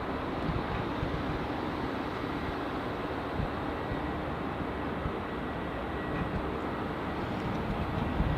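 Steady broadband roar of an airliner on landing approach to runway 34 at Melbourne Airport, Australia, sustained and fairly even throughout, heard from a distance at the spotting area with no talk over it.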